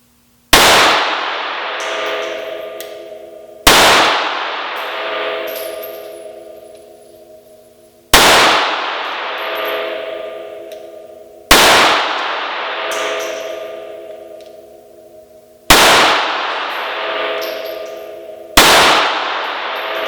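Six loud, sharp gunshots from a Glock G42 .380 ACP pistol ring out alone at a shooting session, spaced a few seconds apart, each with a crisp crack and a short ringing decay.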